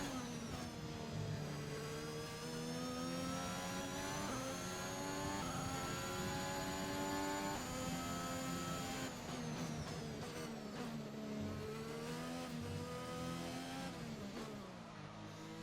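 A race car engine in F1 2021 at a wet Singapore race, revving high and shifting through gears with rising and falling whines, loud and continuous with no talk over it.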